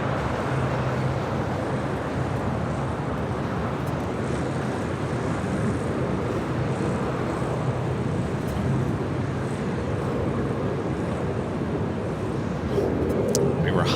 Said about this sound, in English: our next arrival is the American 777 Flight 137 coming in from London Heathrow